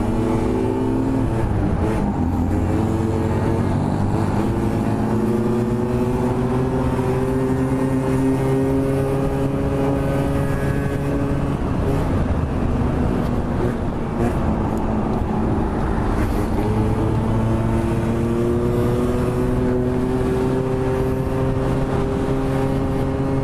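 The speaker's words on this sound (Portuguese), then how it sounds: "Esse carrinho aí é turbo, velho." A small turbocharged car driving on a commute route in Japan, its engine droning loudly and continuously, pitch climbing as it accelerates and dropping between gear changes, for about twenty seconds without talk.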